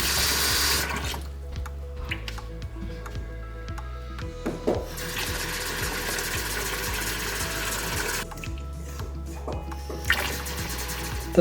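Water runs from a Moen single-handle kitchen faucet into a sink, a steady close rushing that switches off and on again midway, over a low background hum.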